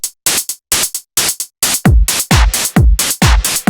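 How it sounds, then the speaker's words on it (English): Short bursts of white noise hit on the upbeats in a steady offbeat rhythm of a witch house track, joined partway through by a deep, thumping kick drum. "It's literally just white noise on the upbeats"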